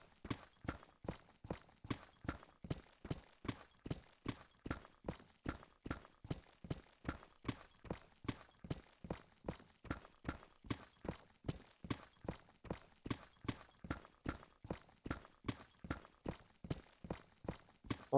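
Horse hooves clip-clop in the Minecraft video game, a quiet, evenly paced stream of hollow hoof clops repeating steadily throughout, with no talking.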